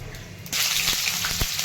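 Hot oil in a kadhai sizzles after cumin and mustard seeds are added for a Maharashtrian shev bhaji, a sudden broadband hiss starting partway through and holding steady, with a few soft clicks and taps.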